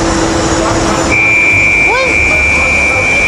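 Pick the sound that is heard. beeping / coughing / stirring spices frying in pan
beeping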